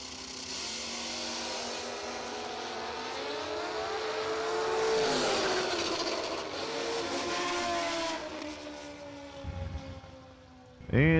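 Kawasaki Ninja drag racing motorcycles at a race, 2007 model, roaring loudly with rising and falling engine pitch through a long acceleration run, a second engine burst near the end.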